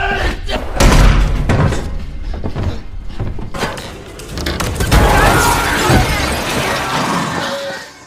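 Glass barrier smashed in a Maze Runner action scene, with loud crashing and shattering impacts over dense, busy film sound and voices.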